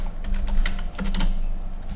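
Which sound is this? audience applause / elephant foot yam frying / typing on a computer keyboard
typing on a computer keyboard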